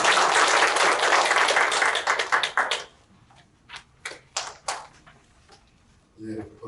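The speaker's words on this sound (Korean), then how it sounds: "박용수 국장님 앞으로 나오실 때 큰 박수를 보내주시기 바랍니다." Applause at a Gwangju city council ceremony marking 160 years of Koryo-saram migration, a loud clapping burst for about three seconds that dies out into a few isolated claps and a brief voice.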